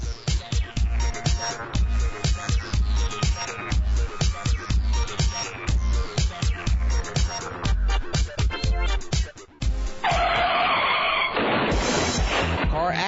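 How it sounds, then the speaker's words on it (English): Car tires skidding in a dramatic crash sound effect for an auto paint and body shop radio advert, loud repeated screeching bursts with impacts and a rushing swell at the end. "Car accident,"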